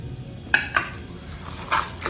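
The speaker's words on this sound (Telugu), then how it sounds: "ఇప్పుడు ఇందులోనే వెల్లుల్లి కూడా వేసేస్తున్నాను." Garlic dropped into sizzling masala in a pan for South Indian sambar, a soft frying hiss with a few sharp clinks of a spoon stirring against the pot.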